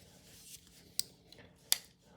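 Nextorch and GHK scissors click sharply twice, close and crisp, with soft handling rustles between the snips in a quiet room.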